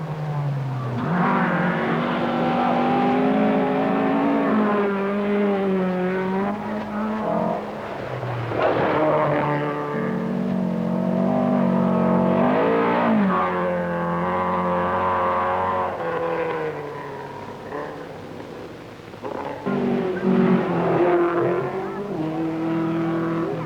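Rally cars race through the 1973 1000 Lakes Rally in Finland, engines droning loud and continuous with rising and falling pitch as they rev and pass, one sweeping by mid-run, no voices.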